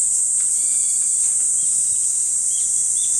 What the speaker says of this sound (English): There's probably about 5 different species of cicadas flying around right now